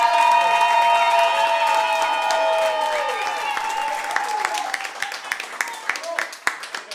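An audience applauds for a singer in a studio music session, loud at first over lingering musical tones, then thinning into scattered individual claps toward the end.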